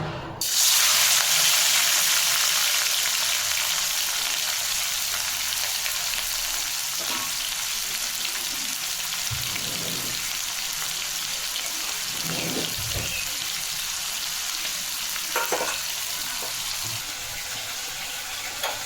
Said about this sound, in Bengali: তেলটা আমার গরম হয়ে গেছে, আমি এবার দিয়ে দেবো চিংড়ি মাছগুলো।